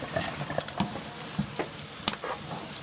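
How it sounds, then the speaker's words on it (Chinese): Pickled cabbage is stir-fried in an oiled wok with scallion, ginger, garlic and chili, giving a soft, steady sizzle broken by scattered scrapes and clinks of a spatula against the pan. "先把切好的酸菜炒一下"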